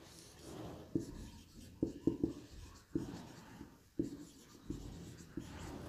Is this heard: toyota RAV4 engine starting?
no